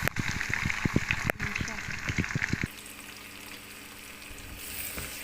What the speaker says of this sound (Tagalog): Pag okay na yung butter, ilagay natin yung sibuyas.